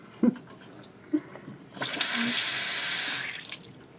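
Water rushes from a Delta bathroom sink faucet that has a dripping fault, a steady hiss lasting about a second and a half after a few soft knocks. Nobody talks during it.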